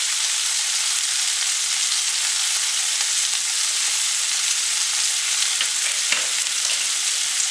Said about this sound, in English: While you are frying this vegetable